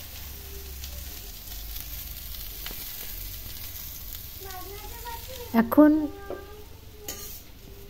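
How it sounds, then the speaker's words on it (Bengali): Pieces of green banana, halved lengthwise, sizzle steadily in hot mustard oil left from frying fish, with louder stirring clatter in the middle of the clip and a brief spoken word. "মাছ ভেজে ওই তেলের মধ্যে কাঁচকলাগুলো একটু ভেজে নিচ্ছি।"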